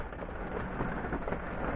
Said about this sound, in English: If it ever stops raining, which it's doing right now